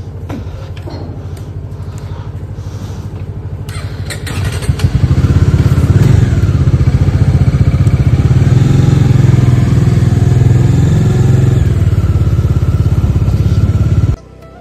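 A motorcycle engine runs on the road from Jorhat toward Tawang, a steady low drone that jumps abruptly louder midway as the bike pulls away and holds a strong, close rumble before cutting off sharply near the end.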